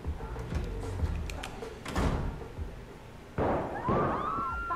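Gunshots ring out in the open-world game Sleeping Dogs, several sharp bursts spread across the moment, with a loud crack near the end followed by ringing, whistling tones.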